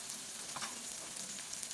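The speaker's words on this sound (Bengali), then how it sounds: "পেঁয়াজ তেলের মধ্যে দিয়ে চুলার আঁচটা মিডিয়াম আঁচে রেখে 2 মিনিট নেড়ে চেড়ে কিছুটা ব্রাউন কালার করে ভেজে নিচ্ছি" Onions frying in oil over medium heat, a soft, steady sizzle with faint crackles, continuous and fairly quiet.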